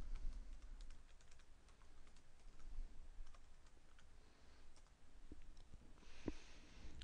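Quiet typing on a computer keyboard while entering login credentials for a remote desktop connection, a run of soft irregular key clicks over faint room hum, with no talk.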